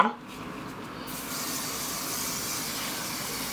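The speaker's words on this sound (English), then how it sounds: "you kind of want to spray this with some holding spray" A steady, fairly loud hiss of hair holding spray from an aerosol can running continuously for a few seconds, with no talking.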